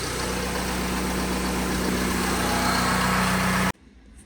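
A JLG machine's engine idles steadily as it warms up in freezing snowy weather, a loud close rumble with a constant low hum that cuts off abruptly near the end.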